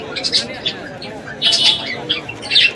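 Birds at the Kolkata bird market on Galiff Street, where pigeons are sold, give short bright chirps and calls in bursts against a murmuring background of market noise.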